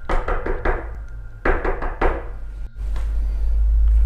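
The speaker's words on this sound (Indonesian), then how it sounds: "dari pintu depan terdengar seperti ada orang yang mengetuk." Someone raps on a front door at night during dinner: two clusters of several quick, fairly close knocks, each with a short ringing decay, then a low steady hum that rises toward the end.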